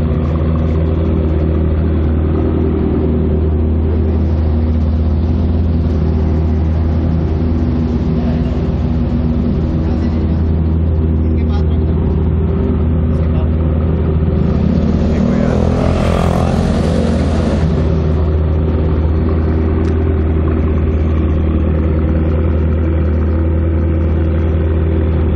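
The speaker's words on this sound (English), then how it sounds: "we are recording all the vehicles sound together. There are Ferrari, McLaren, Aston Martin and Lamborghini" Ferrari, McLaren, Aston Martin and Lamborghini sports car engines rumble loudly and continuously at a rally, with a rising rev swell partway through over a constant dense engine drone.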